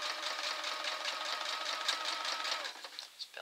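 A sewing machine stitches fabric for a homemade book corner at a 2.5 mm stitch length, running as a steady, close, continuous whir on its own before slowing and stuttering near the end.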